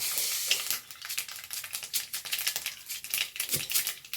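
Mustard seeds and fenugreek sizzle and pop in hot oil for a date and lemon pickle, a close, steady crackle with quick bursts of spattering.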